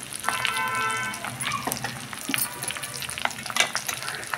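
Gongura leaves and dried fish frying in oil in a pan, a close, crackling sizzle with irregular pops and spatters and scraping stir sounds throughout, no voices.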